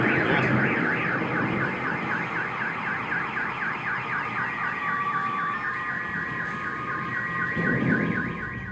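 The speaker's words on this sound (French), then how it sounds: "Le fracas était suffisamment assourdissant pour activer les alarmes des voitures à proximité." Car alarms set off by a thunderclap wail continuously with a rising and falling electronic siren pattern, loud and steady, with a second alarm tone layered underneath and a faint rumble near the end.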